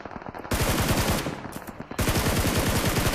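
Rapid automatic gunfire in a battle royale video game, loud and close, in dense sustained bursts with a brief lull around the middle before firing resumes.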